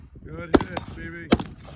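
Gunfire from a carbine and pistol shooting assessment: two loud, sharp reports about three-quarters of a second apart, with a softer crack between them, close and echoing outdoors.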